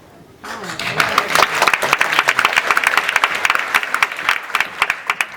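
Audience applause fills a comedy show venue during a stand-up set, starting abruptly and holding as dense, steady clapping from a sizable crowd, fairly loud and close, with no talk over it.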